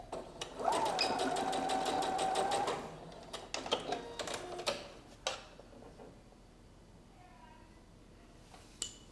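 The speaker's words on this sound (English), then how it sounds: "I'm going to sew towards where the folded edge is and sew it closed" A sewing machine stitches a dress strap closed toward the folded edge, running steadily for about two seconds before stopping, then followed by scattered clicks and small handling sounds as the fabric is adjusted.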